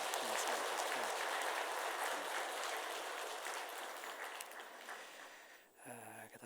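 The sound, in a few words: church congregation applauding in encouragement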